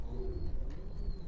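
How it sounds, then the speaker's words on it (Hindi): Pigeons cooing softly nearby, a low repeated cooing over steady background rumble, with a faint high bird chirp now and then. "कबूतर"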